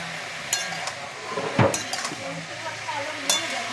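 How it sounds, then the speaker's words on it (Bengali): Potatoes and cauliflower fry in a pan with a steady close sizzle, broken by a few sharp scrapes and clinks of a utensil against the metal. "আলু ফুলকপিটা একটু ভাজবো"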